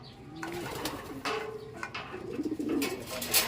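Pigeons cooing nearby in a low, throaty rhythm, with a few short repeated calls over a steady background hum.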